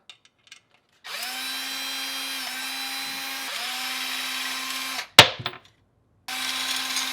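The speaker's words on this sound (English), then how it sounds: "I'm going to remove these screws." A power drill spins out screws while an old garbage disposal is swapped for a 3/4 HP unit, with two long steady whines, a sharp clatter in between and another run starting at the end, all close by.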